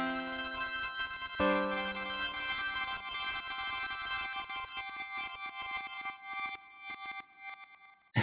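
A Sonicware Texture Lab granular effect, pitched up 24 semitones, turns a sample into high, glassy, chiming tones, with a bright struck onset early on and then a shimmering wash that slowly thins and fades, quiet overall.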